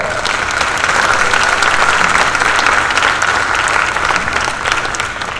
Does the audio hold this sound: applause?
yes